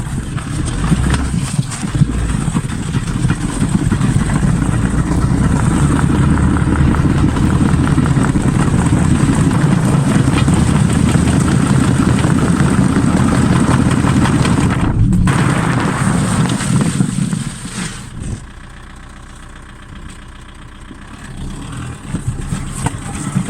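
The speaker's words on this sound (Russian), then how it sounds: "Теперь спускаем колесо и едем дальше со скоростью 40 км в час и смотрим," A sports car rolls along at about 40 km/h on a deflated tire, giving a steady close engine and road rumble with a rhythmic thumping from the flat wheel, which then drops away to a quieter idle near the end.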